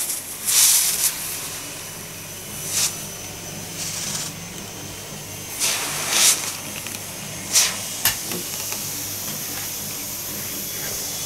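A Kitfort KT-961-2 handheld garment steamer releases short hissing bursts of steam, several separate puffs spaced a second or two apart over a steady low room hum.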